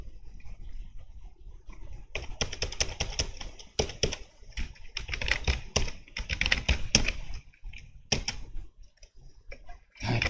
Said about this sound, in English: Typing a wrong password.